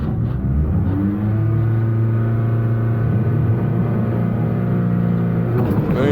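Race cars launch together from the starting grid at lights out, a loud, close wall of engine roar with rising pitch bands as they accelerate, sustained throughout with no talk.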